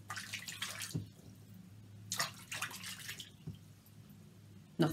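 A man dips himself in river water, with a few close splashing and sloshing bursts followed by gurgling water movement.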